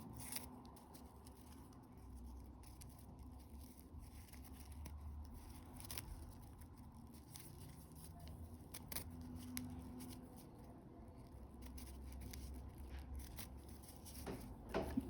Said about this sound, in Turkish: fazlalık ipimi de kesiyorum